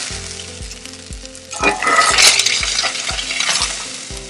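Snapper fillet frying skin-side down in a pan, a steady close sizzle that swells louder midway and crackles on, with faint soft scrapes of the fish being moved.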